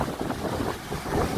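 Strong monsoon wind sweeps over the open sea in darkness, a loud continuous roar buffeting the microphone with surging gusts and no talk.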